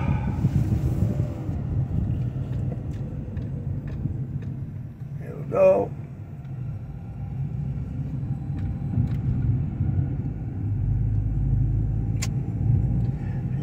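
A car drives along with a steady low engine rumble and road noise throughout, someone speaking inside the cabin over it, with a brief louder swell midway.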